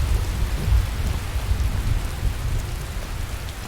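Steady rain with low rolling thunder in the modded Skyrim Special Edition video game, a continuous close wash of rainfall over deep rumbling that holds throughout without any voices.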